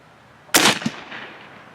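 An air rifle fires a 24 grain slug in a single sharp, close crack, followed by a brief secondary snap and a fading tail, with no talking.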